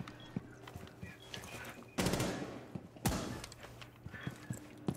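Video game gunfire hits traps: two loud, close bursts of rapid shots stand out against quieter clicks and scattered game sounds.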